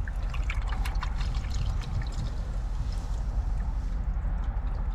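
Water bought online pours in a steady, continuous trickle for the whole stretch in a parking lot, close and fairly quiet, with no voices.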